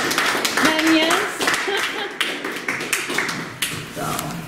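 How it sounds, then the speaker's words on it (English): A small audience claps after a clay mono-printing demonstration, scattered, moderate hand claps under overlapping voices chatting nearby. "Big round of applause for Pat."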